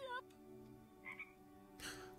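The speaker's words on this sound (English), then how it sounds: "Oh, he's a frog." A frog croaks in the animated movie Shrek 2, several quiet, low croaks spread over a couple of seconds, with faint film score and background sound.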